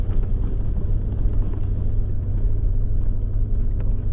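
A 4WD climbs a dirt track in low range and second gear, its engine rumbling loud and steady from inside the cabin, a thick low drone with faint knocks and rattles and no speech.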